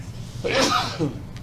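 A single sharp sneeze from an audience member in a lecture hall, fairly close, with a short inhale, a burst, and a brief trailing breath over faint room noise.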